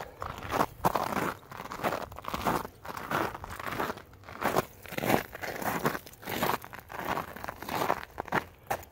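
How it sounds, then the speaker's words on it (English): Boots fitted with metal traction chains crunch on packed snow and ice during a hike, close and rhythmic with a sharp crackling crunch on each step. "you hear the uh, snow and ice crunching so hard under my feet too"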